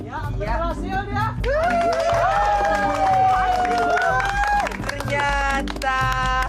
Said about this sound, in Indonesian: Boleh kasih tepuk tangan dong buat Chong Ha Cheng